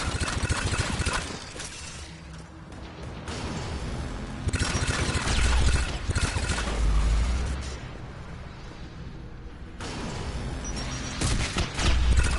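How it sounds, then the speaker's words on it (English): Gunfire erupts in Mass Effect 3 as bursts of rapid shots crackle in clusters. Heavy, rumbling impacts swell underneath, with short gaps between the volleys. "Who's shooting?"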